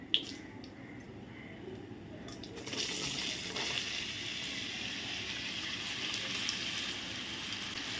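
Raw mango pieces for methamba drop into hot oil tempering seasoned with hing and turmeric; a faint background gives way after a couple of seconds to a soft, continuous bubbling sizzle that holds steady.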